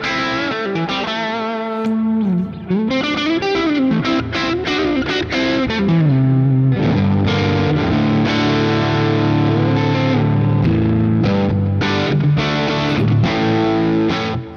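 Electric guitar played through a combined overdrive and boost pedal, boost turned down, drive raised: distorted chords and single-note riffs ring out loud and alone, with sustained notes and sliding bends across the passage.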